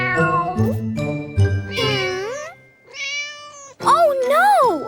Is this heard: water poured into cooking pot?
no